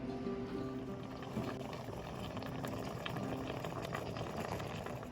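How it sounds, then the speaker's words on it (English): Homemade ketchup made from homegrown tomatoes boils in a pot, bubbling and popping steadily at close range with no voices. "then bring this back up to a boil, and it'll sit there for like 30 minutes"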